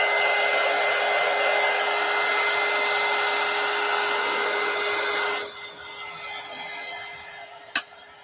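A handheld dryer blows a steady, loud whooshing drone while drying thick glue on a steampunk collage box, then cuts off after about five seconds, leaving a quieter hum and a single sharp click.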